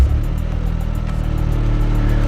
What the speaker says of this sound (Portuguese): Dispensa comentários esse ronco desse motor, né?